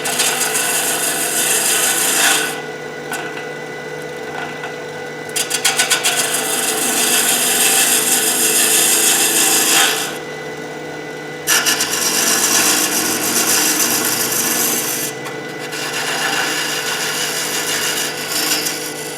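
A wood-turning tool cuts threads into a wooden acorn box on a lathe, producing a steady close rasping scrape with brief pauses between passes.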